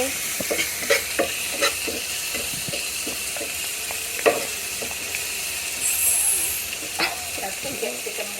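Chopped tomatoes being stirred and mixed in a hot pan for a cashew salad, soft scraping and clacking strokes over a steady low sizzle and hiss, with a voice talking in the background.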